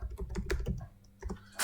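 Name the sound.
typing GitHub on a computer keyboard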